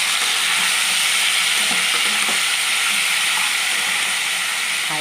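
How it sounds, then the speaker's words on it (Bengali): Marinated chicken hits hot oil on a high flame for chicken chukhani, producing a loud, dense, unbroken sizzle and hiss with light bubbling crackle close by. "আমার তেলটা গরম হয়ে গেছে, আবার ম্যারিনেট করা মাংসটা আমি দিয়ে দিলাম"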